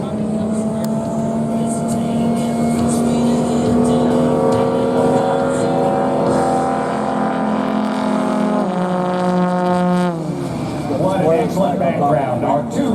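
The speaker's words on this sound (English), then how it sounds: "Our 2 fastest aircraft out here at Stoll Drag Racing with the Yamaha Apex powered motorsport engines." Racing aircraft with Yamaha Apex powered motorsport engines at Stoll Drag Racing during the Roswell Air Races drone past with a sustained high-revving buzz whose pitch slowly rises then drops sharply as they pass, with a second engine note following.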